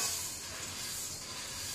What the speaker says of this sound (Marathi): आता आपण हे कुरमुरे लोखंडी कढईत मस्त घालून घेऊया